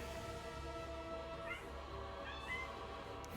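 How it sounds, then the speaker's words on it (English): Cats meowing during a Dark Souls 3 gameplay stream, a couple of short rising cries near the middle and later, fairly faint under steady game music and ambient hum. "Cats are making an early appearance"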